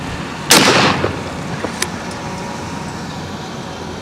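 A single 12-gauge shotgun blast firing number 4 buckshot at a target, one sharp loud report followed by a short outdoor echo, then quiet.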